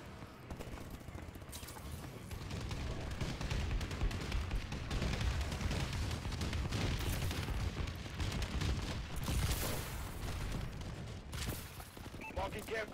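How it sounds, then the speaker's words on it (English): Continuous heavy gunfire and explosive booms from a bombing run in a first-person shooter video game, dense and sustained throughout with rumbling low impacts and scattered bursts. "Friendly bombing run clearing the way."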